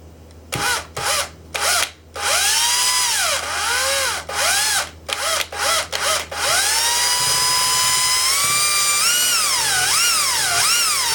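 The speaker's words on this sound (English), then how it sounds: "it's as simple as just drilling into it like this." A power drill whines loudly in bursts into a metal axle tube, its pitch rising and dipping as it bites, then runs in a long sustained grind that wavers near the end.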